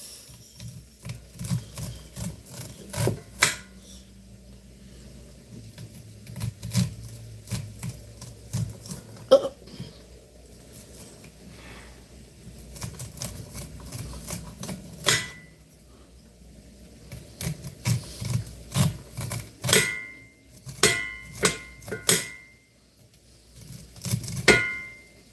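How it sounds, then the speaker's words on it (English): A knife slicing kernels off a corn cob, heard as a series of close, sharp crisp cuts and scrapes in irregular bursts, some rapid runs and some single strokes, with quiet pauses between. "you're going to cut the corn off the cob"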